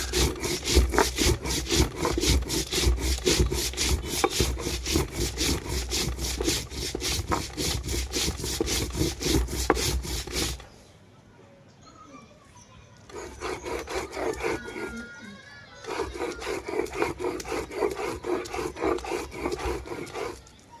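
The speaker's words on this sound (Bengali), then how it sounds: "এই যে মশলাটাকে এখানে বেটে নিচ্ছি।" Spices crushed on a village grinding stone for a village-style chicken curry, a loud steady rhythmic rasping scrape for about ten seconds, a pause, then quieter grinding strokes resuming near.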